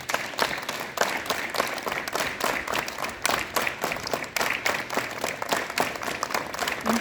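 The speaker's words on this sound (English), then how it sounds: "clap your hands" Students at a school morning assembly clap their hands together, a dense, fairly faint patter of many hands sustained evenly throughout, heard from a distance without talk.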